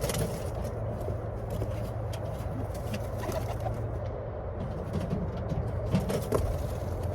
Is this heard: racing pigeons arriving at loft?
yes